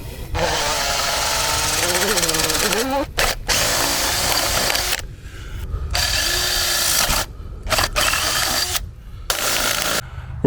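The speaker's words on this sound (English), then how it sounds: "drill out some holes" A power drill whines in sustained bursts with brief pauses between them, loud and close, with some mechanical rattling in the gaps.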